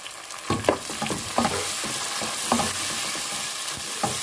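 Onions with a tomato fry in a pan with a constant close sizzle, broken by several scraping stirs of a spoon against the pan, and no one talking.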